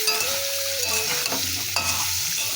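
Chunks of elephant foot yam fry in hot oil, a steady close sizzle with stirring scrapes and a tonal hum running underneath, no voices.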